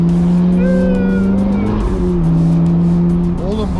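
Ferrari sports car on a race track with a loud, steady engine drone that climbs and shifts as it accelerates, heard from inside the cabin under brief bits of talk.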